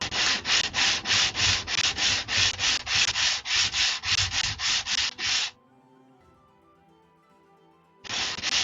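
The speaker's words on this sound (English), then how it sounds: "Oh yeah, we sanded good." Wood being sanded by hand: a steady run of about fifteen rhythmic, loud rasping strokes, a pause of near silence, then the scratchy back-and-forth resumes.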